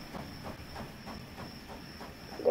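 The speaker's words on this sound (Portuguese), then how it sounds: "O trem passou por aqui agora, eu acho." Train rolling past in the Roblox Wild West game, a faint, steady rumbling with a regular clacking rhythm under a constant high whine, with no talk.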